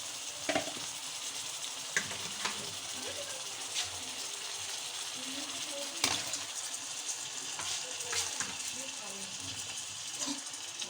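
Tomatoes go into a pan of softened green onions and fry with a faint, steady sizzle, accompanied by scattered clicks and scrapes of stirring.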